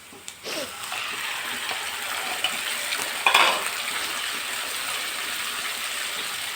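Half a kilo of chicken tipped into hot onions in a pan for a Telangana-style chicken curry, a steady broadband frying sizzle with a sharper burst as the pieces land, continuous and fairly close.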